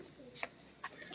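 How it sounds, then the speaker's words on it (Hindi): A Kasuri pigeon coos softly in a loft, two faint brief calls against low background hiss. "ये कबूतर है"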